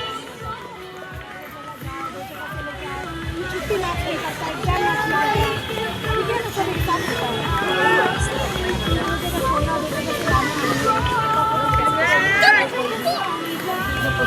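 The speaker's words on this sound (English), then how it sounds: "Come on, cheer louder for all your new houses." Students at a school sports meet cheer for their houses, a dense crowd of children's voices, chatter and shouts building gradually and staying loud throughout, with scattered thumps and a few higher yells rising above the hubbub.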